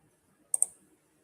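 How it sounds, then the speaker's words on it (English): Two quick, sharp computer mouse clicks close by in a quiet room, just over half a second apart, with no talk. "Let me click on this real quick."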